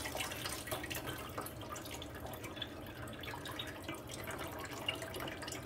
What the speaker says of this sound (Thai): เปิดน้ำเย็นค่ะ